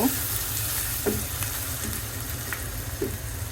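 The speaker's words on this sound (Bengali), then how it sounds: "পেঁয়াজগুলো ভালো করে একটু ভেজে নিব।" Onions frying in a pan with salt and green chillies for a Bengali rohu fish jhuri, a steady close sizzle with a few soft stirring scrapes, no talk.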